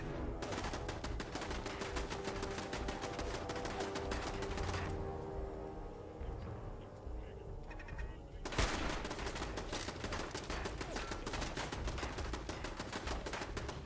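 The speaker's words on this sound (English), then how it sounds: "See if I can't snipe at this turret." Gunfire in Fallout 4 rings out while sniping at a turret: dense, rapid shots crackle steadily, pause briefly in a quieter middle stretch, then resume just as thick and sustained until the end.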